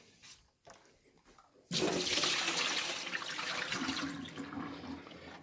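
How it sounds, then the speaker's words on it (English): Water is poured out of a Keurig Duo coffee maker reservoir into a sink, a sudden loud rushing gush after a few quiet knocks, tapering slightly as it continues. "I'm just going to dump the water."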